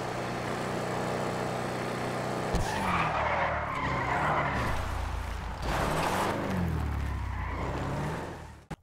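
A Gauntlet Classic and a Sabre Turbo Custom race in GTA V with loud engine roar, tires screeching and skidding in several long squeals, and revs surging and dropping close up, ending in a sharp knock.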